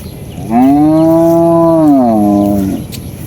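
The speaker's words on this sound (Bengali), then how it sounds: "এই গরু বাছুর লই আস্তে আস্তে মামা যাইতেছে গা" A cow on a slippery riverbank path, walking with calves, lets out one long, loud, drawn-out moo lasting about two seconds, close by and clear, followed by quieter outdoor background.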